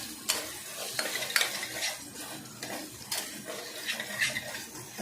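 Ginger garlic paste fries in a hot pan, sizzling steadily close up while a utensil scrapes and stirs it in repeated strokes and metal clinks against the pan now and then.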